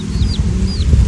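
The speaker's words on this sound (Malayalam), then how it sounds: "ഇതെന്ത് കോഴി?" A chicken clucks faintly in short chirping calls over a loud, rumbling background in a domestic setting.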